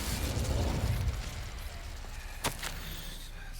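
An Incendio fire spell is cast in a video game: a sudden whooshing burst of flame flares midway through, cutting sharply above a steady, dense bed of game background sound.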